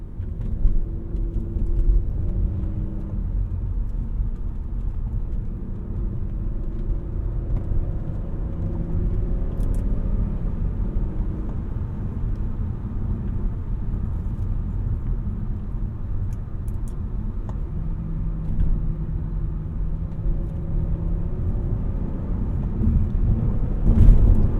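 A 2003 D2 Audi S8 with a V8 engine, heard from inside while driving, gives a steady, deep, rumbling drone. The sound holds at a constant level throughout, with no voices over it.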